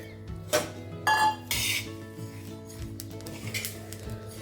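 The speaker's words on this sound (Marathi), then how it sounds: "बडीशेप ही छानपैकी आपल्याला खमंग अशा प्रकारे भाजून घ्यायचे" Metal clinks and scrapes from stirring fennel seeds roasting on a low flame in an iron pan, with a few sharper knocks standing out over a steady low kitchen hum.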